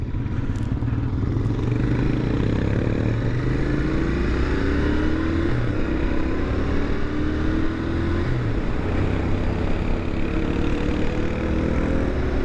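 A 2021 Royal Enfield Interceptor 650 engine drones loudly and steadily while being ridden, its pitch climbing and dropping through gear changes and engine braking, with constant wind rush and no talking.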